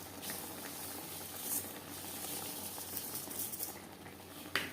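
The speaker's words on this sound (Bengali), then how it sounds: "টমেটো প্রায় সেদ্ধ হয়ে এসছে।" Tomatoes boil in a pot for tomato chutney, giving a soft, steady bubbling and hissing simmer with an occasional pop, faint and alone.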